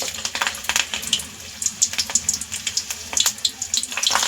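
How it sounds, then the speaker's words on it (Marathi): Stale chapati vadas deep fry in hot oil, bubbling and crackling in a close, busy, watery hiss with rapid little pops throughout. "आता आपलं तेल गरम झालेलं आहे त्यामध्ये आता आपण वडे फ्राय करून घेऊया"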